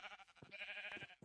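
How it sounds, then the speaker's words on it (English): A sheep in the Minecraft video game gives a short wavering bleat, faint and quick, with a couple of brief stuttering calls. "There's a sheep."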